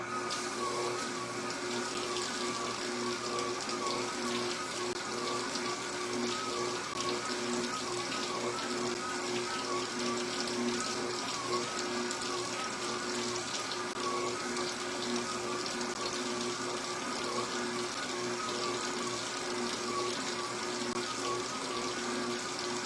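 Water runs steadily from a kitchen tap in a cold house while the hot water slowly comes through, a continuous close hiss and splash that stays even throughout with no talk.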